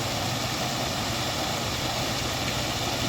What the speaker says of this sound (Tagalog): May ano ito, may motor.